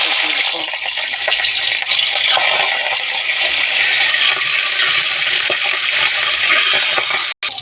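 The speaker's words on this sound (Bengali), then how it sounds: "তেল গরম হয়ে গেছে, এবারে মাছ" Fish belly pieces sizzle in hot mustard oil in a kadai, a loud dense continuous crackle with occasional faint clinks, no one speaking.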